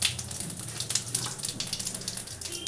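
Cauliflower frying in hot oil with whole cumin seeds, a steady bubbling sizzle with soft crackles running evenly throughout, close and moderately quiet.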